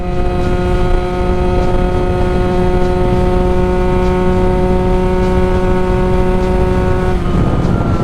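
A Sherco Supermoto 50 with a big bore AM6 engine being ridden, its two-stroke engine holding a loud, steady high-revving drone that drops in pitch near the end, close and continuous with no talk.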